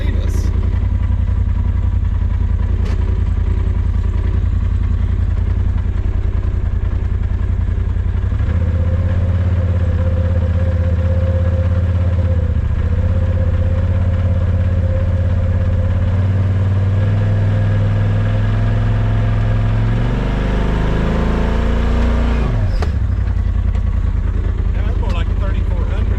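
A vehicle engine holds a steady run near 3,400 RPM during a clutch kit test, droning loud and continuous with a shift in pitch partway through, then dropping off near the end.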